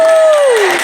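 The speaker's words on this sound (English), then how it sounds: "Give me a round of applause for that." Audience applause fills a short stretch of an election night speech for mayoral candidate Shameka Parrish-Wright. The clapping is steady and dense, with a voice sliding downward over it.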